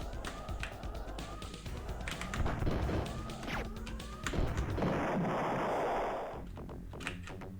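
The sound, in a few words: cannon fire from the Oars ship in Star Control II video game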